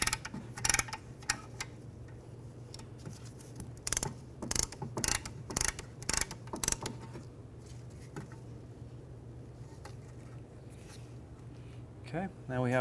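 A tool compressing the rear brake caliper piston on a 2015-2019 Hyundai Sonata gives close, repeated ratcheting clicks in bursts, with a low steady hum underneath and occasional quiet talk.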